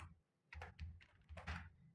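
Quick, quiet taps on a computer keyboard as a search term is typed, a few close keystrokes in two short bursts.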